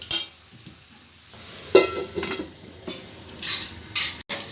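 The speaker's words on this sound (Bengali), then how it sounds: "এবার আমি একটু ঢাকনা দিয়ে দেবো।" A metal lid is set onto a cooking pot while a Bengali vegetable dish cooks, giving a few sharp clinks and clatters spread across a few seconds against a quiet background.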